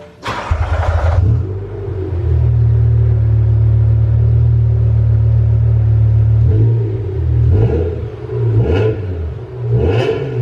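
A car in Indianapolis Red Metallic paint cranks and fires up, settling into a loud, steady idle, then gets several sharp revs near the end, close by with no talk.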